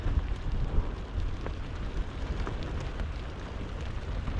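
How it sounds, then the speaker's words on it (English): Steady light rain patters and hisses continuously at a coastal sea fishing spot on the Humber, a dense even wash of drops with no voices. "It's now a little bit of rain"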